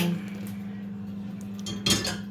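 A teaspoon clinks against a cup while stirring Nescafe, several quick light taps growing louder near the end over a steady low hum.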